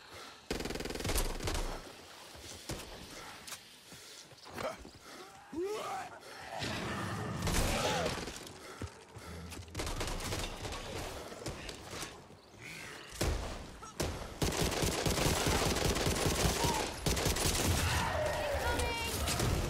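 Zombie-shooting gunfire in the video game Back 4 Blood comes in bursts of rapid automatic shots and single loud cracks, mixed with thuds and mechanical clatter, as voices speak between volleys.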